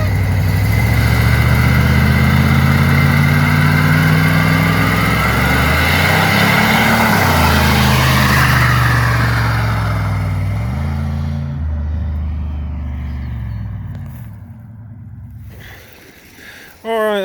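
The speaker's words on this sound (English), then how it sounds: "Don't let those burnouts fool you." A Chevy OBS pickup roars through a burnout, its engine held at high revs with rising and falling pitch and broad tire hiss, loud and close, before the noise drops away near the end.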